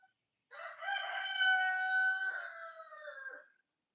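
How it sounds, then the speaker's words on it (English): A rooster crows once in a backyard chicken coop, a long, clear, close cock-a-doodle-doo lasting about three seconds with no other voices. "letting everybody listen to the sounds of the backyard chicken coop"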